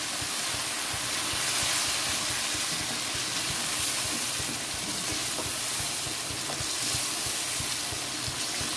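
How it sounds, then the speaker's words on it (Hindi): Chicken karahi with spices frying over a high flame, a steady loud hiss and bubbling sizzle that stays constant throughout, close and without speech. "अब ये वो स्टेज है कि मैं इसमें ये तमाम स्पाइसेस डाल दूँगी और अब हम इसको तकरीबन 3 से 4 मिनट भूनेंगे"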